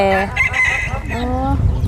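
Chickens cluck loudly and close by while a rooster's crow stretches across the short moment, with a voice faintly underneath, at a temple in Thailand.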